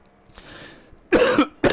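Two sharp, loud coughs in quick succession from a woman, close to the microphone, after a soft breathy pause.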